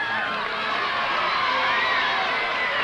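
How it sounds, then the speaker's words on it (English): Game show studio audience cheers on a 1965 Supermarket Sweep contestant, with his wife joining the excited shouting; a dense, steady roar of voices fills the scene continuously without letup. "There's his wife, Renata, now. She's cheering him on."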